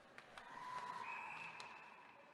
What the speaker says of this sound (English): And we have another whistle.